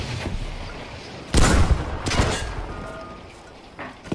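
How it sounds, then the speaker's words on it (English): Battlefield V gunfire on a battlefield: a heavy blast lands in the middle, followed by another weaker burst and scattered distant shooting over a low rumbling background. "There's a lot of shooting going on."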